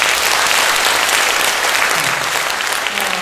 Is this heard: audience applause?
yes